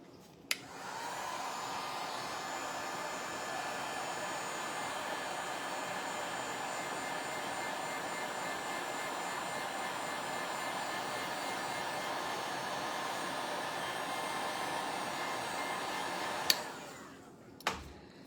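A hair dryer blows steadily and alone for about sixteen seconds, drying paint on a patriotic craft tag, then clicks off with a couple of sharp taps at the end.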